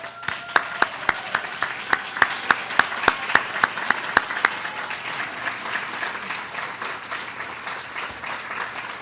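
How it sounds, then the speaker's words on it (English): A ceremony audience applauds a group of volunteers at a small business awards event in San Francisco. A few sharp, close claps stand out at a steady beat over softer general applause from the room, and the clapping thins out toward the end. "could you please stand for a round of applause?"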